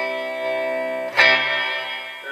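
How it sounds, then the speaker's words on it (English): A sustained clean electric guitar chord through a Studio 7 S760 tube amplifier head's DSP reverb rings out with a lush, echoing tail, a brief strum accent midway, then a long shimmering decay. "there's a nice echoey reverb."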